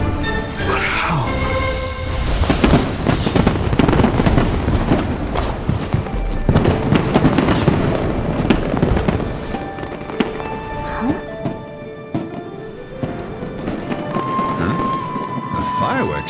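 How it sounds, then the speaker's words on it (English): Fireworks show in the Genshin Impact video game: a dense, continuous barrage of bursts and crackles, loud and sustained throughout, with layered pops and tonal whistles over a busy background. "A fireworks show?"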